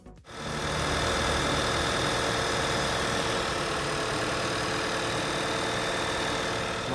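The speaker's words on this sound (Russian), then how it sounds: "Мотор работает на машине." A Volkswagen engine from a 2007–2011 Tiguan with 170,000 km on it idles steadily after a brief start, a loud, constant mechanical hum with a fine, even tick running through it, heard alone at close range.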